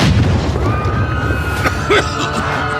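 A muffled boom of a dust bomb going off, with bursts and crackling debris under a dense, noisy backdrop.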